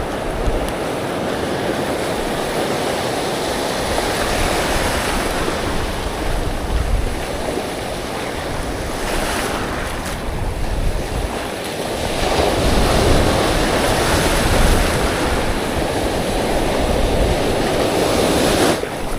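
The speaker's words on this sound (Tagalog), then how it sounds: "Kahit walang hangin, malalaki yung alon." Large ocean waves at sea, heard from a fishing boat, make a constant loud wash of surf mixed with wind buffeting the microphone, swelling stronger toward the end.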